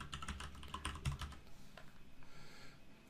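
Fingers tap a computer keyboard in a quick burst of clicks that thin out and fade, faint and close in a quiet room.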